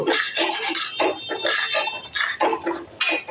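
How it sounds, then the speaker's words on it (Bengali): Prawn butter masala is stirred in a pan after salt and red chilli powder go in, and a utensil scrapes and clinks against the metal in a busy, close, irregular rhythm. "ভালো করে একটু নেড়ে চেড়ে দেব"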